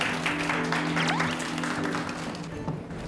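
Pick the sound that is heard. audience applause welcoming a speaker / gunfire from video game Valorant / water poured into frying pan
audience applause welcoming a speaker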